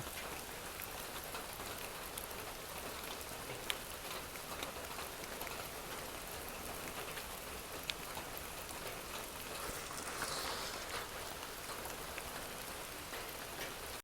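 Continuous rain pours down at an even rate, a constant hiss of drops with a couple of brief knocks.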